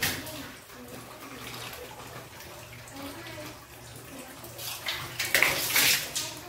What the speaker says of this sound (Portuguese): Enxago logo o vaso também, ó.